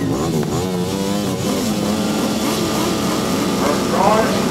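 Racing sidecar motorcycle engines rev loudly at a British Championships sidecar race, with a rising, wavering engine note that builds toward the end of the clip.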